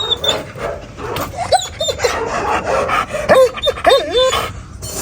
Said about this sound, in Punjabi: ਵੇਖ ਲਓ ਆਈ ਆ ਤੇ ਭੌਂਕਣ ਲੱਗ ਪਈ ਆ